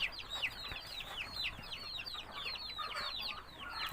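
Native chickens cluck in a coop with repeated short, bright calls, overlapping and fairly close, a busy chatter of clucks through the whole clip with no voices over it.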